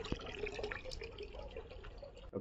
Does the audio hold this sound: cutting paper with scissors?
no